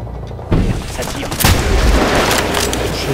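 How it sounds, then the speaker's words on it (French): Gunfire and booming blasts from the Medal of Honor: Warfighter shooter, loud and continuous after a short quiet start, with a heavy burst mid-way and a dense battle din throughout. "Merde, ça tire."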